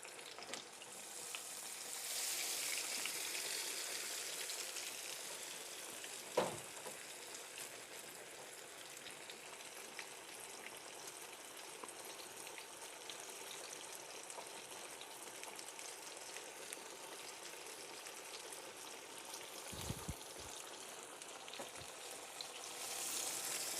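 Sliced green tomatoes fry in a frying pan over medium heat, giving a steady, fairly quiet sizzle with a few sharp clicks and taps near the middle and end.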